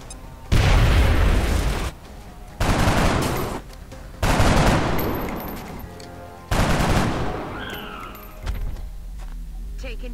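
Gunfire in the video game XCOM: Enemy Unknown, four loud sustained bursts of rapid shots separated by brief pauses, each ending abruptly, with a voice talking faintly in between.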